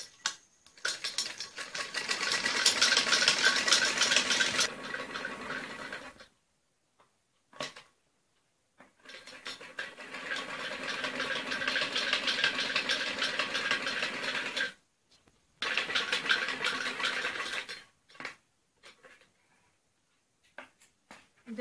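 A sewing machine stitching around a trouser waistband runs in three bursts of rapid mechanical chatter, each a few seconds long, separated by pauses of near silence, close and fairly quiet.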